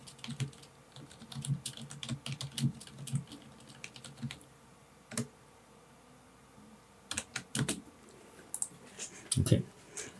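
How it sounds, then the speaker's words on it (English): Quick, irregular clicks of someone typing code on a computer keyboard, bursts of keystrokes separated by short pauses, close and clear. "Let me just type this code, then I'll explain what's happening here."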